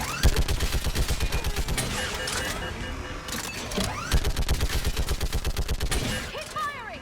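Rapid automatic gunfire in the video game Mass Effect rattles in sustained bursts with a brief pause midway, accompanied by sci-fi weapon whines and sweeps, loud and close.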